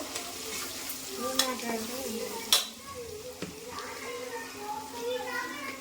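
Sliced onions with a pinch of turmeric fry in a hot pan, a steady close sizzle with occasional clatters of stirring, while voices, including a child's, talk over it.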